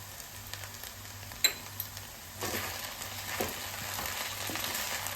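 Sabu khichuri (sago) with roasted peanuts, cumin and dried chilli stirred in a frying pan, a steady soft sizzle with a few scraping stirs and a sharp clink, frying growing slightly louder midway.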